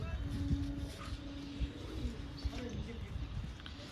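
Old-generation Kalshila pigeons coo softly in the background, low drawn-out calls with occasional light taps and thumps nearby, fairly faint overall.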